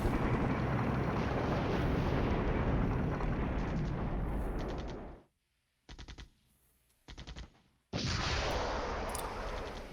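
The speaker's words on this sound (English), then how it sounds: "Here comes some stuff up red, ATGMs firing." ATGM fire in the video game NATO Decisive: a dense, roaring wash of launch and battle noise cuts out abruptly, then gives way to a few sharp separate bursts and a final loud blast.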